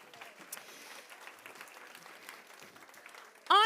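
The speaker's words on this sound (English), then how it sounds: "Let's give John a round of applause." A small gathering at a hospice event gives a soft, thin round of applause, faint scattered claps heard alone, with a sudden louder burst of sound at the very end.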